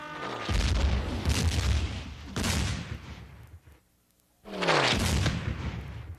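Cartoon artillery fire booms in three heavy, rumbling blasts with a short silent gap before the last one, loud and up close.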